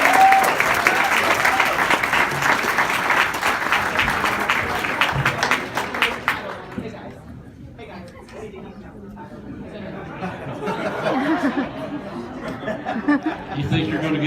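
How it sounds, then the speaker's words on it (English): Audience applause at an evening event honoring a teacher and principal: several seconds of lively clapping that gives way to crowd chatter and light laughter. "So give their teacher and principal a round of applause as well."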